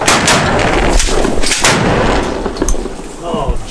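Shotgun blasts from a diver duck hunt on the Chesapeake Bay, a handful of loud, sharp reports spread across a few seconds over steady wind and open-water noise, with voices in the background.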